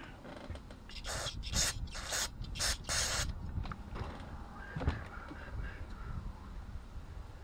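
Oil spraying from the bar and chain of a Husqvarna 455 Rancher chainsaw running on old used motor oil, with a series of hissing bursts early on over steady engine noise that then settles into a lower running drone.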